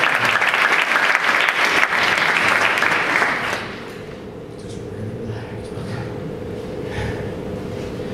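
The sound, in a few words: audience applause at a hypnotist show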